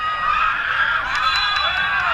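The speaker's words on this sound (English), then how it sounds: "The crowd definitely getting into it right here" Crowd at a Philippines Football League match between Dynamic Herb Cebu FC and Don Bosco Garelli United cheering and shouting, a loud sustained roar of voices with rising yells.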